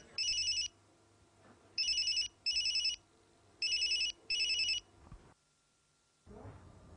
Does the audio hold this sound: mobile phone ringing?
yes